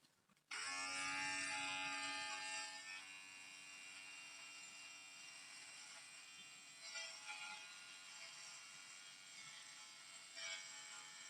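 A Bim Fakir electric hair clipper with a number 9 guard switches on and buzzes steadily while trimming hair at the nape, a close, continuous hum with small shifts as it moves through the hair.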